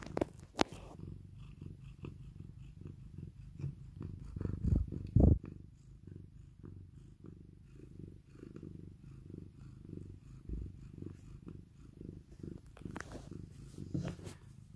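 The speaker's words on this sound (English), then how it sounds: "Listen to her purring." A soft, low cat purr rumbles steadily and close up, with a few faint bumps and rustles along the way.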